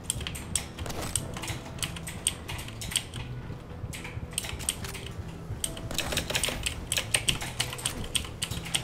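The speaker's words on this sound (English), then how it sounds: "This is a real mouse pressing game, or a keyboard pressing game." A computer keyboard clatters nonstop with rapid, loud keypresses and occasional heavier strikes during fast-paced Quake Champions gameplay.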